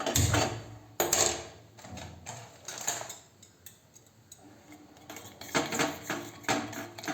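A coffee mixture with milk is stirred in a pan over a low gas flame, giving clinks and scraping knocks of the spoon against metal. The strokes come in uneven bursts with quieter gaps, close and fairly soft, with no talking.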